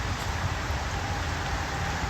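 Rain falling steadily, a dense, even wash of drops with no distinct rhythm, moderately loud and close, no voices.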